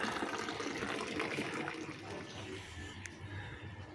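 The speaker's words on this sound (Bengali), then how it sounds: "এই যে জলটা ভরছে।" Water runs from a tap into a container, a steady soft rushing and splashing, moderately quiet and continuous, with no voices.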